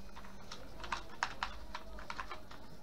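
Light clicking keystrokes on a computer keyboard, a short irregular burst of taps at moderate distance over a quiet room hiss.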